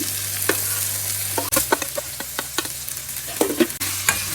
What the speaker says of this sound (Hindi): अब मैं शामिल करने लगी हूँ टमेटो, और टमेटो के साथ पोटैटो भी शामिल करूँगी